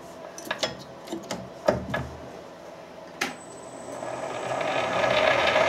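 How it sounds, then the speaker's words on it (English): A Harrison lathe starts up in neutral, its chuck turning through the gearbox. Several sharp mechanical clicks and knocks come first, then a steady whirring hum builds and grows louder toward the end, with no talk. "Right, nothing's moving, just the chuck's turning around. And that's turning through the gearbox."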